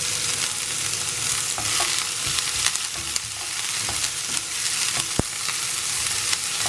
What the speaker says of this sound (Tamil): நல்லா பொரிய ஆரம்பிச்சிருச்சு.